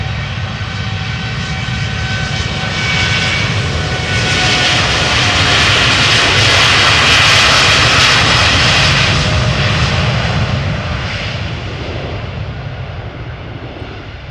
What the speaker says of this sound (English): TUI flight 703, 7878 Dreamliner